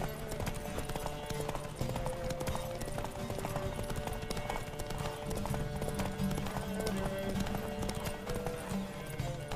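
A horse gallops in a race in The Witcher 3, its hooves drumming in a fast, steady clip-clop over a busy game soundscape, with music and effects layered throughout.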